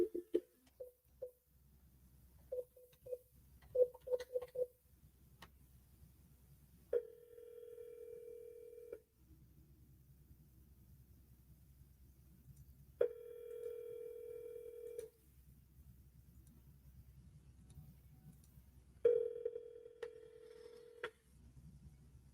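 Outgoing telephone call: a series of short keypad dial tones, then three evenly spaced long ringback tones separated by several seconds of quiet line hiss.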